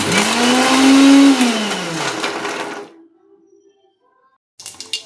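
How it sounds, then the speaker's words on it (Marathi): A kitchen mixer grinder whirs loudly for about three seconds, blending onion and tomato into a fine paste, its motor pitch dropping as it winds down before a brief quiet and a short clatter. "आणि ती मिक्सरला मी बारीक अशी पेस्ट करून घेते"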